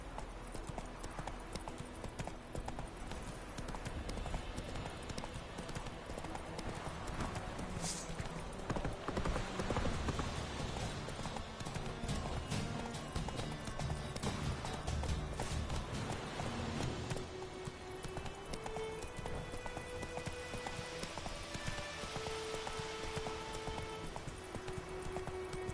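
In the Witcher 3 video game, horse hooves clip-clop in a steady trotting rhythm, moderately close, with light ambient patter beneath and faint occasional talk.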